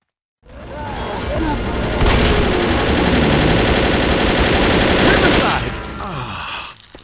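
Sustained rapid gunfire in the video game Left 4 Dead, loud and dense for several seconds, with shouted voices mixed in before it tapers off.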